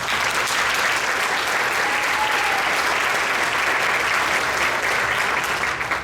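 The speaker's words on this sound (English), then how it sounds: "Round of applause for the flute." A school audience claps steadily for the flute section of a sixth grade band, a full, even round of applause that runs throughout without a break.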